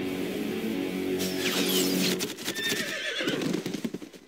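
A horse whinnies loudly and shrilly, followed by a burst of hoofbeats clattering in quick rhythm, close and prominent with no talking.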